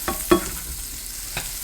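Butter sizzles softly in a regular size frying pan for an omelet, with a few brief scraping clicks as it is spread around; steady faint crackle underneath, no voices.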